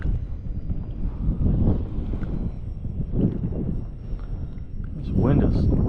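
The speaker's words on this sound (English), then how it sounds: "I don't like the wind" Wind gusting across Raystown Lake, a steady low rumble buffeting the microphone from a boat, swelling louder toward the end with faint water motion beneath.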